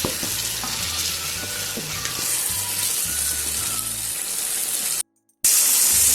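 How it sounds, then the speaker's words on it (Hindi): Chicken karahi frying in oil in a wok: a loud, continuous close-up sizzle with bubbling spatter and some stirring, cut by a brief half-second gap of silence before it resumes. "अब हम इसको भूनेंगे जब तक हमारा तेल ऊपर आ जाएगा।"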